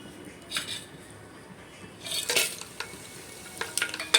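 Dry masala stirred and frying in hot oil for a mutton dish, soft scraping in a pan with short bursts of sizzling, close and moderately quiet.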